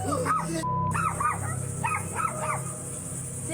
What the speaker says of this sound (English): These two dogs are barking because she's over there